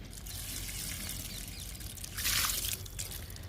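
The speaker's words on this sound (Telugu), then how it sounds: "స్టార్ ఫ్రూట్కి ఇస్తున్నా వాటరు" Water poured onto a star fruit plant, a continuous trickle and splash that grows louder and brighter midway, then settles back to a steady flow.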